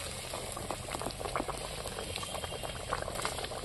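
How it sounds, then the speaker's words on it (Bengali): A spicy curry sauce for fish bhapa bubbles steadily in a pan, giving a continuous close, soft popping and hissing simmer with no talking. "ঝালটা সুন্দরভাবে ফুটে গেছে, ফুটছে।"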